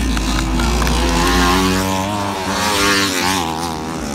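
A 125cc racing motorcycle engine runs rough and loud nearby at a race, its buzzing two-stroke-like note wavering and dipping in pitch, with no talk over it.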